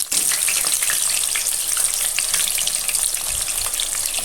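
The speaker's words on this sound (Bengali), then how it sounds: "আরেক সাইড আমি পাল্টে দিচ্ছি, একটু লাল করে পোড়া ভাজা করব" Chicken pakora deep frying in hot oil, a loud dense continuous sizzle and crackle that stays close and even throughout, with no voices.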